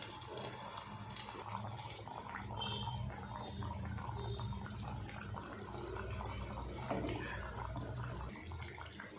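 Wheat flour batter fries in hot oil with a soft, continuous bubbling hiss, fairly faint and even from start to finish.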